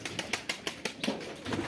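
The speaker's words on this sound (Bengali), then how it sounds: "কবুতর, হাজার হাজার কবুতর" Pigeons on a farm with thousands of birds: a run of rapid, evenly spaced wing flaps and flutters close by, with soft low cooing underneath toward the end.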